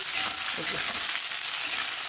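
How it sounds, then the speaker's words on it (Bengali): Okra (bhindi) frying in a kadai gives a dense, continuous hiss of hot oil, close and steady throughout with faint stirring. "দেন আমি ভিন্ডিগুলোকে এইভাবে ভেজে নেবো একটু"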